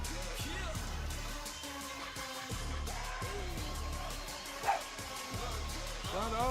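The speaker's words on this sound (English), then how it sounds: "Shut up already with the barking." A dog barks and yips repeatedly in short bursts, fairly close, over a loud televised NXT wrestling broadcast with commentary and crowd noise, while people talk in the room.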